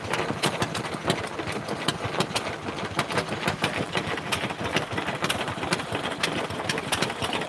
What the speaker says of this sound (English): The joy of stationary engines. I quite like the relaxing noise they make.